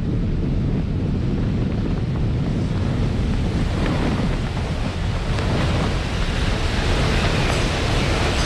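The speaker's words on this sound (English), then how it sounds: "This might be the strongest gust we've gotten so far." Strong wind gusts roar continuously into the microphone during flooding at Jacksonville Beach, a loud, steady buffeting with surf-like rumble and no talking.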